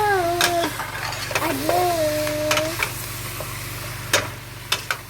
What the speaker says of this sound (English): we're going to stir this around and mix it up